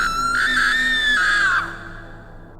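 A woman's long, shrill horror-style scream, loud and sustained for about a second and a half before trailing off into a fading echo, with no talking over it.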